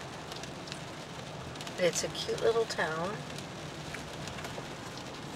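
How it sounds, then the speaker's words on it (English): Steady rain drums on a moving car while driving south on Michigan Highway 123 into Newberry, a constant hiss under brief conversation from people inside the vehicle. "we're dealing with rain"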